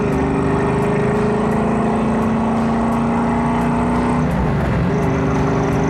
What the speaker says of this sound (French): Et là on rétrograde.